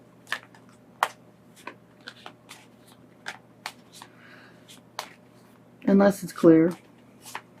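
Tarot cards are handled with scattered soft taps and flicks, then a brief, louder burst of riffling shuffles near the end, with a voice speaking briefly over them.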